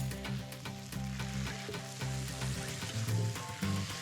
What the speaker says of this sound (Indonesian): tumis bumbu sampai harum